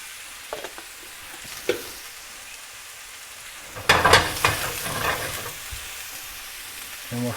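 Mushrooms dropped into hot olive oil for a carbonara-style pasta meal, a low background sizzle that bursts into louder crackling and spattering midway, with light stirring clatter and a few knocks.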